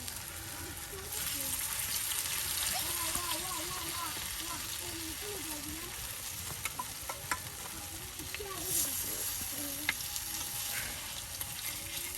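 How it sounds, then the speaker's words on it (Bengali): Potato fritters (bora) fry and crackle in hot oil over an outdoor village cooking fire, a steady close sizzle with stirring scrapes throughout and a voice talking over it. "আলুকুচির বড়া কিন্তু একদম কিছুক্ষণ সময়ের মধ্যে একদম দেখুন প্রায় মচমচে ভাজা হয়ে যাচ্ছে তেলের সাথে"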